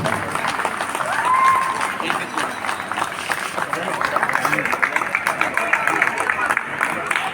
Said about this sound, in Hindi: तालियों से बजाइए प्लीज